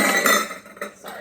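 Metal utensils and a measuring cup clink and clatter in a home kitchen during corn chowder prep, a quick burst of bright close clanks followed by a couple of softer knocks.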